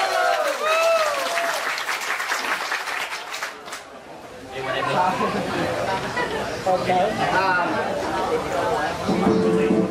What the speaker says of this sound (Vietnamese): hãy dành cho nhau một tràng pháo tay